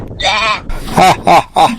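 Young goats bleat loudly and close by, four or so wavering cries in quick succession, one running into the next.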